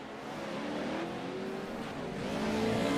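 Racing trucks drive past on a track during the Shenandoah Shine Group Therapy 100 race, engines droning and rising in pitch as they approach and accelerate, moderately loud and continuous.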